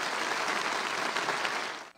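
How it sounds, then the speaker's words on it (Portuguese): A crowd at a sanctuary service for Our Lady Aparecida applauds in tribute to the late parish priest, dense steady clapping that fades out near the end. "Ele merece uma salva de palmas lá no céu onde ele está"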